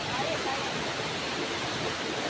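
Tso Kung Tam Falls in Tsuen Wan, Hong Kong, gives a steady, dense rush of falling water, broadband and continuous, with a voice faintly speaking over it.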